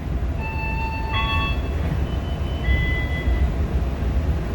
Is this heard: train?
yes